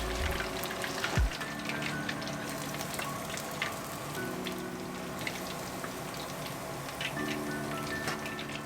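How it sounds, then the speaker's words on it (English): Continuous bubbling sizzle of Hokkaido-style chicken thighs in their first frying in oil, close by and steady, with a brief clunk near the start and a faint hum beneath. "Now the first frying is done, let's take them out."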